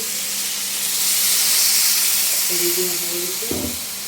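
Water poured into a hot pan, where ginger-garlic-cumin paste has been frying, gives a brief steaming hiss followed by a short splash and bubbling near the end.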